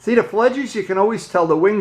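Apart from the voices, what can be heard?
No everyday noises stand out.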